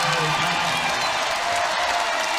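A basketball crowd cheers and applauds at Assembly Hall during an Indiana vs Michigan State women's game after a deep shot goes in, a steady, loud roar filling the arena throughout.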